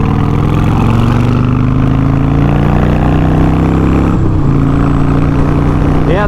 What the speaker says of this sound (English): So, this bike sounds so freaking good.